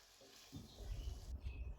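Chopped tomatoes are stirred into softened onions in a frying pan for egg biryani, giving a close, low sizzle with scraping and stirring noises that rise after a quiet start.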